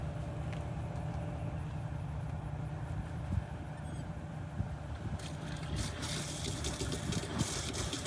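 Water filling an RV tank for a black water flush on a new Jayco camper, a steady low rushing flow with a constant hum, turning hissier and brighter toward the end.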